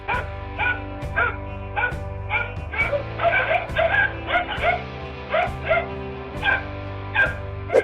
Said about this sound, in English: These dogs are putting their lives on the line in order to prevent a cobra from getting into the house